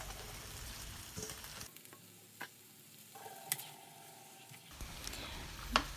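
Bean sprouts stir-fried with tomato and baby corn in a pan, a soft sizzle under scattered light clinks and taps of a spatula, faint and close, with no speech.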